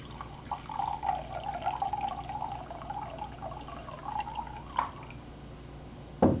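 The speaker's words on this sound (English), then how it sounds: "I'm going to do another full cup of water." Water is poured into a cup in a home kitchen, a close, continuous trickling stream with a rising gurgle as the cup fills, ending in a short clunk.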